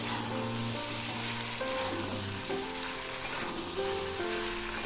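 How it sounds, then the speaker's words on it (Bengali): Mixed vegetables (potato, eggplant, pointed gourd, radish, beans, pumpkin and cauliflower) stir-fried in a pan with salt and turmeric, giving a steady, close sizzle with occasional scraping and stirring, no voice. "এবার আমি একটু নেড়ে দিচ্ছি।"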